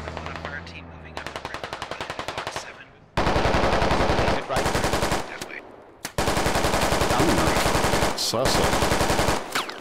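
Automatic weapons firing in the Squad military shooter game, long rapid bursts of loud close gunfire broken by brief pauses, with a short spoken word mixed in.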